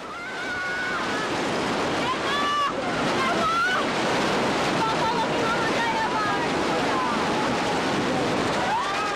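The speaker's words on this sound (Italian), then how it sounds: "l'onda cresce rapidamente, in pochi secondi si trasforma in un fiume in piena che travolge tutto quello che incontra sul suo cammino" A tsunami flood wave of rushing water sweeps through, a loud continuous roar of surging surf and wind with scattered tonal sounds, and a voice speaks over it.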